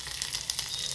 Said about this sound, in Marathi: फोडणी छान बसतीये.